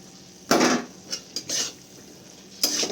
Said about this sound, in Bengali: তো এরপর ভেজে রাখা ব্রকলিগুলো আমি এখানে অ্যাড করে দেবো